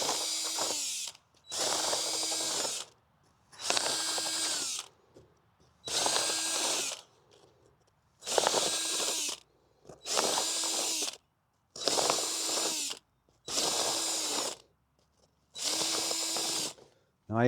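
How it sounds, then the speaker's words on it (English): A power drill fitted with a 3/4 inch spade bit bores a series of holes, about ten short whining bursts of similar length separated by brief silences, close and loud. "Now I am using a spade bit on here, 3/4 inch spade bit."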